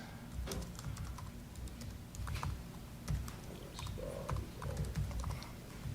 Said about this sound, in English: I can't type well on other people's keyboards.